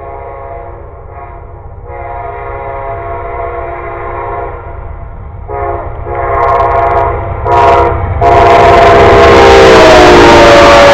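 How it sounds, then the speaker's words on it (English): A loud train rumbles steadily past at close range, its horn blaring in long tones that swell louder toward the end. "And there it goes, another train."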